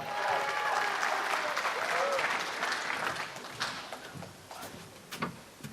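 A crowd bursts into steady applause that holds for a few seconds, then thins out into scattered claps and fades.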